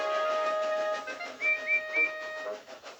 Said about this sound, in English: Thomas is here, whistled Percy